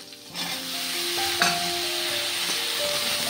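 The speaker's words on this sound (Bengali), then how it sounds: "তো এইখানে প্রথমে ফুলকপিটা হালকা করে ভেজে নিলাম।" Cauliflower frying lightly in a pan with a loud, steady sizzle close by, plus a brief clink of stirring partway through.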